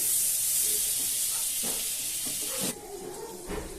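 Butter melts in a hot pan before ginger, chilli and vegetables go in for a flattened rice and semolina sandwich filling, giving a steady, close, loud sizzling hiss that drops abruptly near the end, with no talking.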